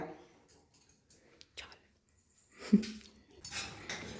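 A spoon stirs amrutha phalam sweet with ghee in a pan, giving sparse soft scrapes and light clinks with quiet gaps between them, and a voice murmurs briefly.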